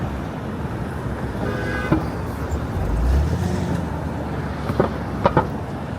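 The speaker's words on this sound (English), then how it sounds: "This is like the exit off the FDR. The cars that are coming in right there." Busy New York City traffic rolls off the FDR Drive exit as a continuous roadway rumble. A louder low swell passes midway, and faint distant horn-like toots sound near the end.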